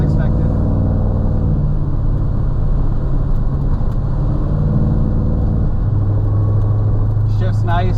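A 1957 Chevrolet 210 Wagon cruises at about 35 mph near 2,000 rpm, its engine and road rumble forming a steady, loud, low drone heard from inside the car throughout.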